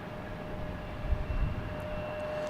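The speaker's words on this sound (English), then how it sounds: "That was a quick takeoff." A jet airliner climbing away after takeoff from Boston Logan Airport, a low steady distant engine roar with a thin tonal whine, fairly faint and without talk.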